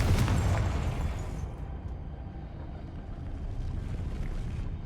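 A Confringo fire spell bursts with a loud explosive boom in the Hogwarts Legacy video game, its blast decaying quickly into a low rumbling tail, with no talking.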